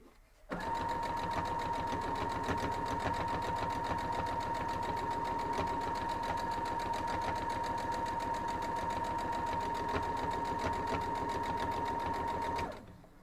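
A sewing machine hems a cloth napkin with close stitches, running in one continuous, rapid mechanical whir for about twelve seconds before stopping, near and steady, with no talking.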